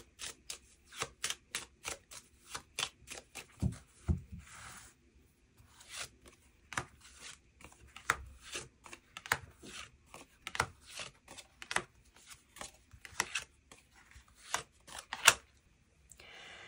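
Tarot cards are shuffled and drawn in repeated bursts of crisp riffling and sliding, near and fairly quiet, with short pauses between bursts and no talking.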